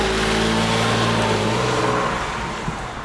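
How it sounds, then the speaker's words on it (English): A Porsche 911 engine runs close by with a steady low, rough drone that eases off slightly toward the end; no talking. "For a running, moving Porsche 911."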